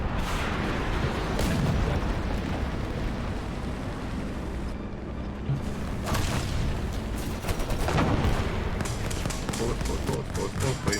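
Gunfire and explosions in Destroy All Humans, dense crackling and booming bursts rolling continuously at close range, layered with a talking voice and chaotic game noise.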